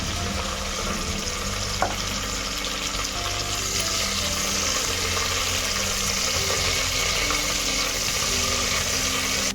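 Peas and fenugreek leaves frying in hot oil for a beans curry, a steady close crackling sizzle with watery hiss running throughout, one brief clink near the start.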